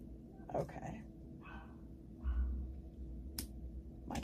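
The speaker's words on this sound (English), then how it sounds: "My dogs are barking." Several muffled dog barks, spaced unevenly and somewhat distant, sound over a steady low hum.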